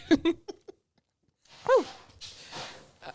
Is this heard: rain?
no